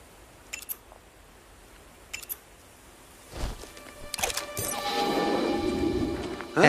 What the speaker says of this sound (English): Throw the wrench at the buckets to distract the guard.